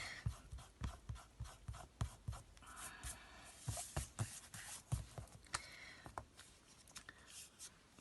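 A pencil eraser rubs brisk, rhythmic strokes across a piece of card, a series of close, soft scratchy scrubbing bursts.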